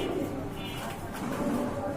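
Pigeons kept in a loft coo in a low, continuous murmur that holds steady across two seconds, fairly close and unbroken.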